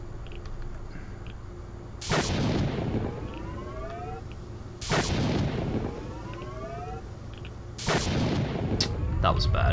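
Three sharp, booming gunshots fire a few seconds apart in S.T.A.L.K.E.R. Shadow of Chernobyl, each followed by a ringing, echoing tail over a steady low background hum.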